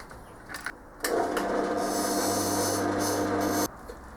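A steady mechanical whirring grind runs for a few seconds, starting and stopping abruptly, a drill boring holes through metal while fabricating a countershaft; quiet room noise before and after.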